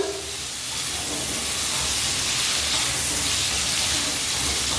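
Potato pieces frying in a pan over a low flame with a pinch of salt give a steady, dense sizzling hiss that stays even and close throughout.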